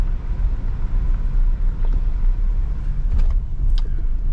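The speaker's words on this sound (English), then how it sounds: "But we are still just driving along." An overland vehicle drives along a dirt road in northern Colorado, heard from inside as a steady, close, low engine and tire rumble with faint rattles and no talking.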